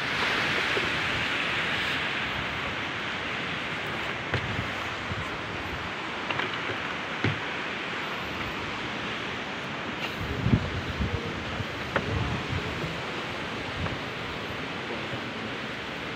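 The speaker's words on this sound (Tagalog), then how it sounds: "Kalakas ng agos." A strong water current rushes in a constant, dense roar that fills the clip, steady and fairly loud, with small bumps and splashes poking through now and then.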